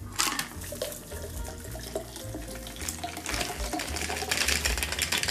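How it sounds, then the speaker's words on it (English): A cocktail is double strained from a shaker over soda in a glass, a thin trickling pour with small splashes and clinks, fairly quiet and close, no talk. "We will uncap our shaker and double strain that over the soda."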